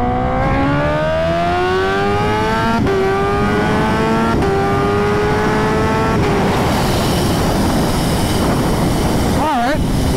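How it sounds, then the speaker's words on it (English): A Kawasaki Ninja H2 motorcycle with new modifications accelerates hard in second gear from about 60 mph, its engine note climbing steadily through a loud, continuous pull, then rushing into wind noise near the end. "now it's time for me to mount the H2, do some testing, and see how this thing performs with all of its new mods"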